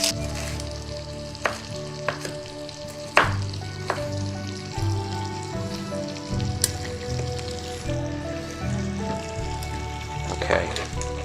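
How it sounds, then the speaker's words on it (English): Bacon frying in a pan gives a steady crackling sizzle with scattered pops and clicks, continuous and fairly close, with faint music and room sounds underneath. "that's going to take a little while to finish frying"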